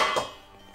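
A metal cooking pot clanks briefly as steamed eco-print bundles are lifted out of it, a single quick clatter that fades within a second.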